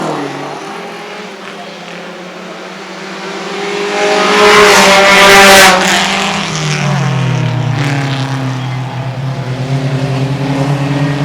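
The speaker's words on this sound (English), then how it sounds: "Here's Vonnegut again, leading lap 2." Vintage Italian race cars at the Pittsburgh Vintage Grand Prix street course, engines rising from a distant drone to a loud roaring pass-by, then fading as another car follows with shifting, falling engine pitch.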